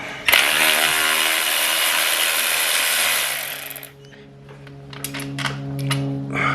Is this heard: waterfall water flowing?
no